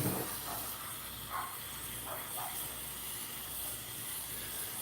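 A torch hisses steadily while melting silver for a poured heart casting, a constant broadband rush held close and loud throughout, with a few faint higher swishes rising over it.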